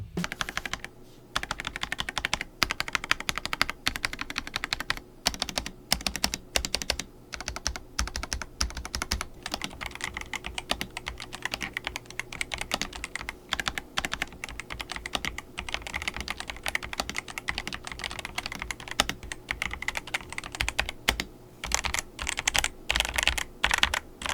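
Continuous close typing on a RAKK Lam-Ang Lite V2 mechanical keyboard, a stock prebuilt board, with rapid steady clacks over about twenty-four seconds and no talk.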